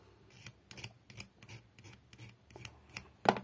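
Corroded car electrical contacts being scraped clean, a series of short dry rasping strokes repeated at a steady rhythm, close up and fairly quiet, ending with one sharper scrape.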